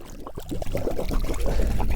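Irrigation water gushing through a pipe at about 30,000 gallons an hour for flood-irrigating swales, a forest garden and pastures; a steady, close pouring and splashing rush that builds in strength across the clip, with no talk.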